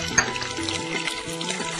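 Green, red and yellow capsicum bell peppers sauté in hot oil, giving a continuous close hiss and scraping stir throughout, with no speech.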